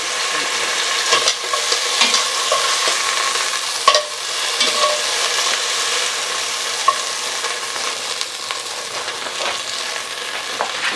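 Beef browning in a pot for birria, sizzling steadily and loudly up close as the pieces fry, with occasional stirring scrapes and small pops over a continuous hiss.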